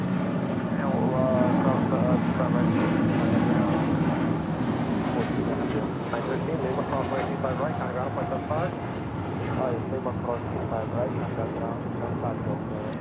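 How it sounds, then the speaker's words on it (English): An El Al Boeing 787-9 Dreamliner in Jerusalem of Gold livery departs LAX, its jet roar rumbling steadily and loudly throughout while radio chatter and voices talk over it. "Flight 6 Heavy, departing to Tel Aviv on a 787-9 Dreamliner in the Jerusalem of Gold livery."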